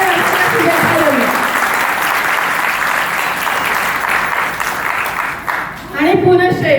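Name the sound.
audience applause for uncle's 75th birthday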